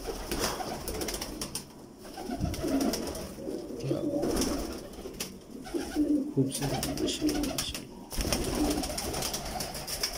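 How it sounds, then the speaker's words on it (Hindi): Pigeon coos from a master breeder's prized shikra pigeons, a soft, repeated cooing close by amid steady background noise, with someone talking in between. "ये भी हमारे उस्ताद जी के बड़े मशहूर कबूतर हैं, शिकरे।"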